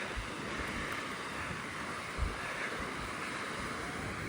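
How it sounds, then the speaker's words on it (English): Surf washing onto the white-sand shore at Bathers Beach, Fremantle, on a summer evening: a steady broadband wash with soft low rumbles and light wind buffeting the microphone, continuous and moderately distant. "here we are, Bathers Beach. Oh, look at this, beautiful white sand."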